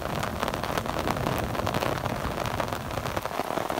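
Heavy rain during a May thunderstorm in the Pothwar region pours down in a dense, steady roar of drops pattering on surfaces, close and continuous, with no voices.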